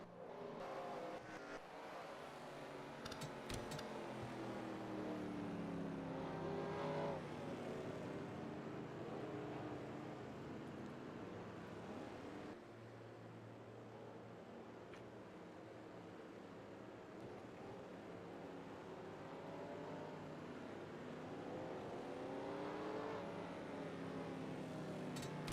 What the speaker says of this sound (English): A lot of cars exiting pit road now.